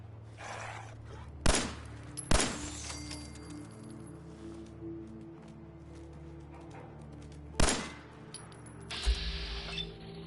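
Pistol shots in the video game Fallout 4 crack out as a few sharp, loud reports spaced seconds apart, each with a brief decay, over a low ambient game hum.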